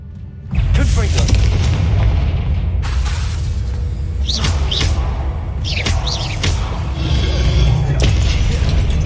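A Confringo spell blast in Hogwarts Legacy bursts with a loud boom, then rumbles and shatters on as debris scatters, with bright whooshing crackles following over several seconds; no talk.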